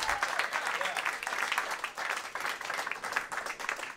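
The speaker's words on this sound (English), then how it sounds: "give it up for the wait staff here, by the way. Give them a round of applause" A comedy club audience at a stand-up show gives the wait staff a round of applause, a steady wash of many hands clapping at moderate volume with a few louder surges.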